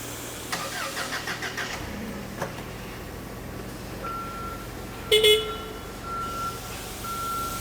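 A Toyota forklift engine cranks and catches, then idles and moves off, with a steady reversing beep sounding over the running motor at close range.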